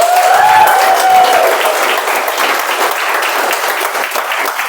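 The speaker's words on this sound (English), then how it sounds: "Big round of applause." Audience applause fills the room at a Toastmasters club Table Topics contest, a steady loud wash of clapping that eases slightly toward the end, with a brief raised voice over the opening.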